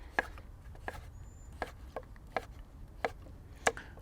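A knife slices zucchini into larger pieces on a cutting board, with about seven crisp, separate chops at a slow, even pace, close and fairly quiet, with no talk.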